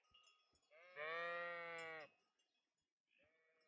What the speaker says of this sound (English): I'm betting the sheep are here.